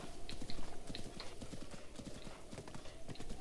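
Rhythmic clip-clop of horse hooves galloping steadily in Breath of the Wild, a continuous rapid beat at moderate volume with no talk.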